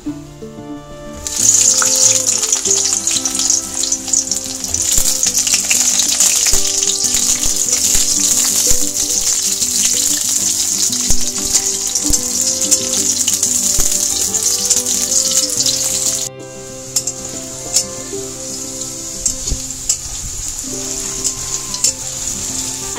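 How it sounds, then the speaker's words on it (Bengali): Eggplant slices fry in hot oil for Bengali shukto, giving a steady, loud, close sizzle that runs the whole time with a brief dip partway through, and no voices. "এবার এই গরম তেলটার মধ্যে আমি বেগুনগুলোকে ভেজে নেব"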